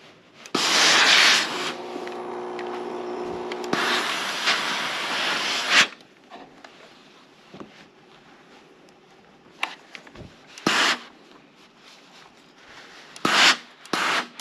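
A steam iron presses a 3/8 inch seam on a fabric baby bib, with long loud hissing bursts and quieter rubbing and shuffling in between.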